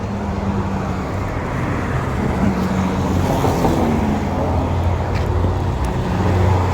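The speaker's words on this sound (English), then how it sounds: "This is the delivery vehicle, whatever it's called." A delivery vehicle drives along a street, its engine and tyre rumble blending into steady road noise with no sharp pass-by peak, moderately loud throughout.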